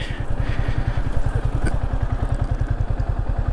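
A motorcycle engine thumps in a fast, steady rhythm close by, loud and continuous with some rattling over the top, no voices.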